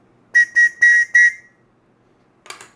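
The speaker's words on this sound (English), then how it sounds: "Got ourselves a little emergency whistle." A small emergency whistle from a survival multi-tool kit gives four sharp, shrill blasts in a quick row, the last one a little longer, then two faint short chirps after a pause.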